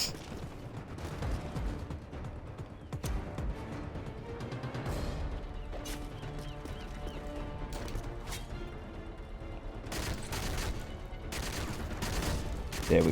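Rapid gunfire in Modern Warfare 3 Survival mode aimed at a sentry gun, with bursts of shots and sharp cracks over a busy game soundscape, moderately loud and steady throughout.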